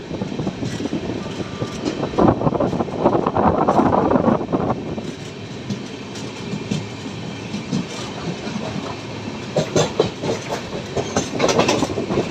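The Sampark Kranti Express runs on Indian rails from Nizamuddin toward Yeshwantpur near Mathura, a continuous loud rumble with repeated clickety-clack wheel beats and wind buffeting, no talk.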